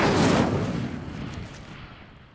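A fire spell cast in Hogwarts Legacy, a single loud fiery burst that swells at once and then rumbles and fades away over about two seconds.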